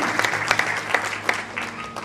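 A church congregation claps during an afternoon service, a dense patter of hand claps with a few louder bursts, fairly close and steady, with faint voices mixed in.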